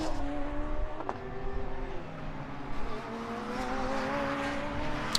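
Radical race cars brake hard into the Melbourne hairpin at Donington Park, engines dropping through downshifts with a brief tyre squeal as the cars pass near.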